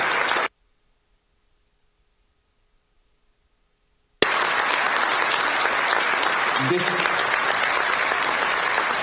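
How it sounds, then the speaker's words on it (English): Audience at an investment conference applauds a Korean delegation; after a few seconds of silence, loud dense clapping bursts in abruptly and carries on steadily, with faint voices mixed underneath. "Can the members of the Korean delegation please stand up so that we can give you applause?"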